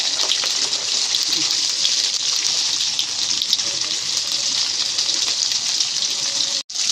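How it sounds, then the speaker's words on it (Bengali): Rice going into a pot of boiling water seasoned with bay leaves and cardamom, heard as a steady, loud, close rushing and bubbling wash of water that runs unbroken for the whole stretch. "জলটা গরম হয়ে গেছে এবারে চালটা দিয়ে দেবো"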